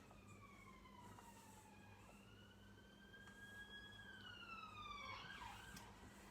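A wailing siren sweeps up and down over steady background traffic rumble, fairly distant at first and growing a bit louder toward the end.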